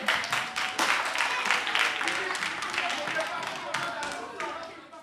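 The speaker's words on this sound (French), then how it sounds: "On va applaudir nos membres du jury." An audience applauds the jury members at a semi-final contest, dense rapid clapping that holds steady and fairly loud before tapering off at the end.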